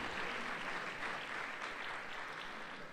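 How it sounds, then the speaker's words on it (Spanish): Applause from a seated audience at an industry technology conference, steady dense clapping that carries evenly for the whole stretch at moderate loudness. "Les pedimos despedir a nuestro conferencista, al presentador y al presidente Concamín con un fuerte aplauso"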